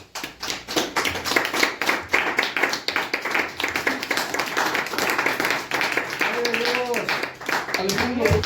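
A church congregation claps hands as an offering to the Lord, a dense patter of many rhythmic claps that continues throughout, with voices rising and singing beneath it near the end.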